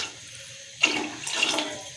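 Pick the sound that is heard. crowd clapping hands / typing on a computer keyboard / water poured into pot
water poured into pot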